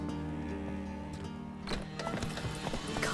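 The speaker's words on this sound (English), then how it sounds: "Gotta calm all the horses before they wake the guards." Horses in the video game The Witcher 3 shuffle and clop on a stable floor during a quiet night scene, a few hoof knocks and snorts over a low droning backdrop.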